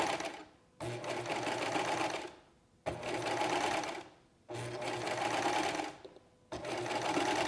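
A serger sewing a scallop rolled hem with satin finish, fast whirring stitching in four runs separated by short pauses, close and steady.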